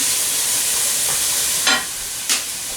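Garlic sizzles in hot oil in a pan, a loud steady frying hiss close by, broken by two quick scraping stirs of a utensil late in the clip, with no voices.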